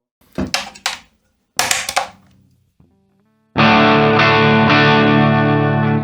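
Distorted electric guitar through a Mooer GE200 multi-effects unit: a few short muted chord stabs and scratches with pauses between them, then one loud full chord rings out and sustains to the end.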